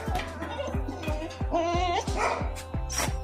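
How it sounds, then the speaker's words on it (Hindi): A dog indoors barks repeatedly in a steady run of sharp, close barks, roughly two or three per second, mixed with a few higher yips and whines. "ये मुझे देख के भी भौंक रही है।"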